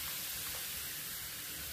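Ginger garlic paste hitting fried onion in a hot pan for Nagpur-style chicken curry, giving a loud, steady, bright sizzle that hisses continuously without pause.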